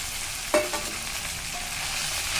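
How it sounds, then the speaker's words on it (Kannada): Fried okra is stirred in hot oil, a steady sizzle with one sharp scrape of the spoon early on and a few softer stirring sounds after. "ಮಿಕ್ಸ್ ಮಾಡಿಕೊಂಡು ಚೆನ್ನಾಗಿ ಮಿಕ್ಸ್ ಎಣ್ಣೆಯಲ್ಲಿ ಮಿಕ್ಸ್ ಮಾಡಿಕೊಳ್ಳಿ"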